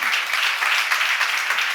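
Dense, steady applause from a church congregation during a sermon, continuous clapping at full volume throughout with no pauses.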